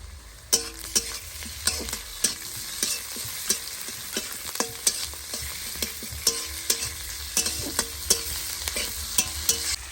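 Chicken with chopped chilli, ginger and garlic frying for fried rice, a close, steady sizzle broken by regular scraping stirs and clinks of the spatula against the pan.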